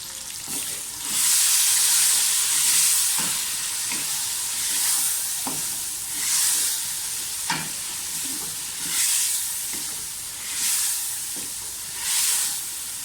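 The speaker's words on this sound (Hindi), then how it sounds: "मुझे 5 मिनट हो गए तकरीबन मसाले को भूनते हुए" Masala of tomato paste, roasted crushed coriander, cumin, turmeric and red chili powder frying in a pan, with a steady sizzle and hiss and occasional scraping stirs rising and falling, no talking.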